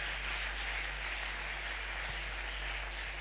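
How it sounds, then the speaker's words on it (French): Church congregation clapping in praise to God during a service, a faint, even, rain-like patter of many hands that holds steady at a distance over a low electrical hum. "nous bénissons Dieu par les acclamations"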